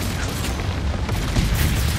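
An explosion goes off below in the video game Ghost of Tsushima, heard as a loud, dense rumbling roar that holds steady throughout with no talking.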